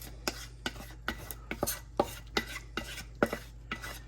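Chorizo and vegetables go into a pan, heard as about ten evenly spaced sharp knocks and scrapes from a utensil working the pan, close and distinct over a low steady hum, with no voices.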